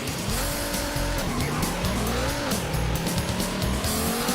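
Race cars roar with sustained engine drone and repeated tire squeal and skidding in the Street Rod 2 video game, loud and continuous throughout with rising and falling engine pitch.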